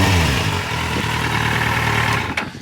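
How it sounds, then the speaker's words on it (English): A 2016 Kawasaki Z800 motorcycle idles steadily with a low rumbling exhaust note, close and fairly loud, with a brief sharp click near the end. "I want you to hear the exhaust."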